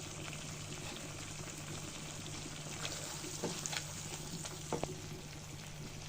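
Egg korma masala sizzles quietly in oil in a pan, the spices well fried until the oil rises to the top, a faint continuous crackle with a few louder pops and stirring sounds.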